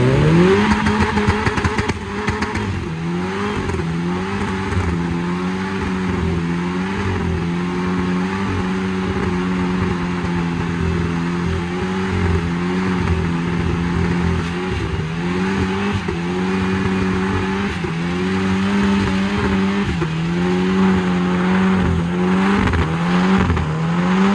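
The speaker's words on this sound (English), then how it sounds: "And this is the outside view of that burnout." A sleeper Honda Accord does a burnout, heard from outside the car: a loud, sustained engine roar that surges and dips in pitch as it revs hard and continuously for over twenty seconds, with no voices.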